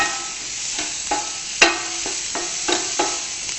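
Mushroom stuffing sautéing in a pan, a bright close sizzle punctuated by several sharp scrapes and stirs of a utensil against the pan, without talk.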